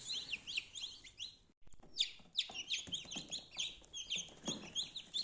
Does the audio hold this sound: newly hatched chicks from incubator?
yes